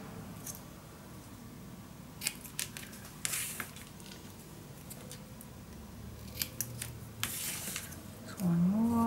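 Scissors snip paper pieces for a Graphic 45 Love Notes folio mini album. A handful of crisp, close cuts come at irregular intervals against quiet room tone.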